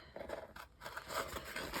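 Scissors snipping through diamond painting canvas, a quiet series of short crisp cuts and scraping strokes, close and faint with no talking.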